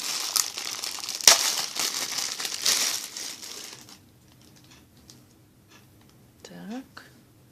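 A plastic packaging bag from an AliExpress parcel crinkles close up as zigzag and heron-shaped scissors are unpacked, loud rustling for several seconds that then fades to quiet handling with a brief soft voice near the end.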